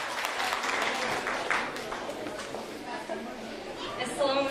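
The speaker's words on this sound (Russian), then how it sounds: "Давайте поддержим их своими аплодисментами." Audience applause at a Miss Uyghur girl pageant, a steady wash of clapping at moderate level for the full stretch, with some chatter mixed in and a brief lift near the end.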